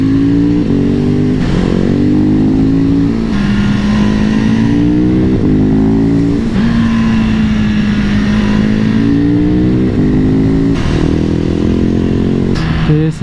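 A 2021 Husqvarna 701 SM supermoto single-cylinder motorcycle takes a tight corner, its loud engine note close by, rising and falling as the rider rolls off and gets back on the throttle through the bend.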